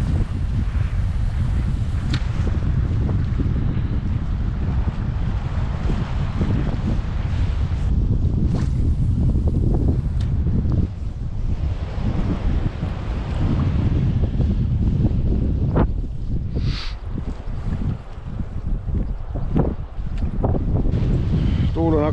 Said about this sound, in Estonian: Tuul on hakkanud läänest juba üsna ühtlaselt tugevalt puhuma.